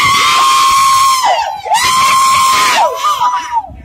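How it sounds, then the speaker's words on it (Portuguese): A crowd at an amateur city football championship match shouting loudly and close by, dominated by long, sustained high-pitched shrieks that break and rise again. "Olha a turma gritando, gritando."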